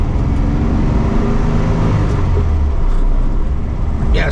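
A 1964 VW Beetle with a 1600cc dual-port engine being driven, its engine note rising in a slow rev as a steady, loud drone with road rumble around it.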